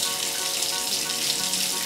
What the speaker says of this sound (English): we can take the little handle off here and get the water going.